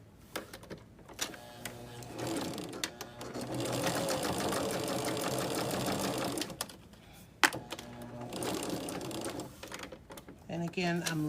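A sewing machine hums steadily as it stitches quilt seams, in a few sustained runs broken by brief pauses, with someone talking softly over the whirring.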